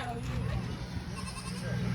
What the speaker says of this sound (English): We weighing the goats right now.